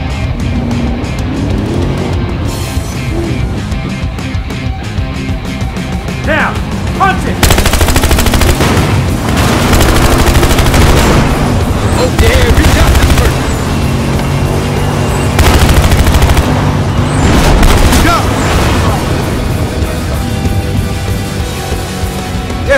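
Battle rifle fire in the Battlefield Hardline video game, rapid loud bursts of shots over continuous combat din with engine and explosion noise, sustained throughout with louder stretches.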